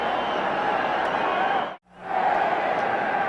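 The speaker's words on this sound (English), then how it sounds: "The crowd is intense" A stadium crowd roars steadily and loudly at the 1985 NFC Championship playoff game, Los Angeles Rams at Chicago Bears. The roar cuts out briefly midway and then resumes at full strength.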